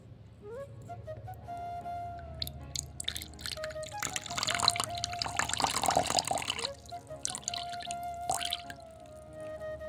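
Water poured into a container for animals to drink, a brief trickling splash that swells in the middle and then fades, with drips before and after in a quiet setting.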